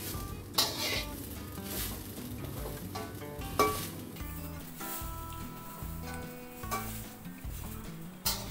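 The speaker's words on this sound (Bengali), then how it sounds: "কড়াতে কোরানো নারকেল দিয়ে কিছুক্ষণ ভাজতে হবে।" Grated coconut fries in a wok for narkel naru, with a soft sizzle under intermittent scraping and clinking strokes of a spatula against the metal.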